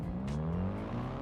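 Car engine in the BeamNG driving game, RS version with a 2.0 motor, holding a steady, droning rev with a slight pitch rise near the end.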